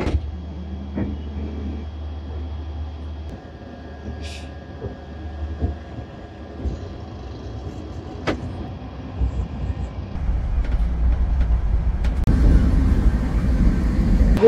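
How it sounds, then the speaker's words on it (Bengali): A Rajdhani Express train (Howrah–New Delhi) pulling out of Kanpur Central after a short halt, heard from inside the coach as a steady low rumble that grows louder and rougher toward the end, with occasional clanks. "যে 5 মিনিট মতো দাঁড়িয়ে আমাদের ট্রেন আবার ছেড়ে দিল"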